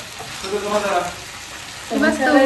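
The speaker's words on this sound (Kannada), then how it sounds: "ಇನ್ನು ಥರ್ಡ್ ಪ್ರಾಸೆಸ್ ಈ ಫಿಶನ್ನು ಇದ್ರ ಮೇಲೆ ಹಾಕಿಬಿಟ್ಟು ಸೊ ಮಸಾಲದ ಜೊತೆ ಹಾಗೆ ಫ್ರೈ ಮಾಡೋದು" Anjal fish frying on a tawa with green masala, a close, steady sizzle with bursts of stirring or shifting, no talking.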